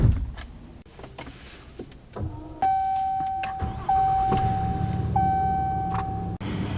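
Power adjustable pedals in a Ram 3500 Longhorn Mega Cab dually pickup hum as they move, a steady close electric motor whine that runs for several seconds with a brief break and clicks around it.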